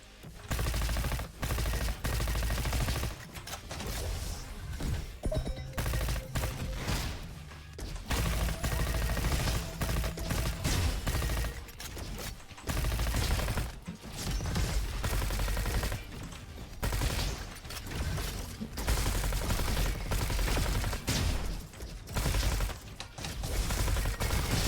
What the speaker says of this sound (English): Machine gun. Or SMG specifically.